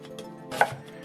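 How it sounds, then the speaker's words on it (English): Kitchen knife chopping onion, celery and carrots on a board for a lasagna sauce, a brief run of close, crisp blade strikes with one sharper, louder chop in the middle. "let's keep chopping that stuff up."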